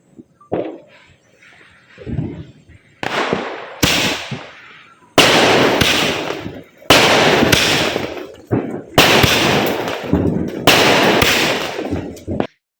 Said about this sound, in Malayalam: ആ സ്കൈ ഷോട്ട് ഒരു രക്ഷയില്ലായിരുന്നു കേട്ടോ